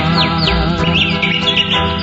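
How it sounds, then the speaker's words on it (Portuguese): Birds in the Amazon rainforest, heard as bright rising chirps and whistled trills over a thick, sustained musical bed, loud and continuous. "Amazonas, a passarada a cantar. Ouça ao longe o seu lindo gorjear."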